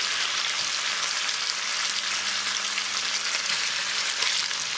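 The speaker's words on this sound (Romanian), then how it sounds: "Cât carnea se sotează" Beef pieces sauté in fat in a pot for a soup of beef and green beans, a steady dense sizzle with a faint low hum beneath, loud and close, no voices.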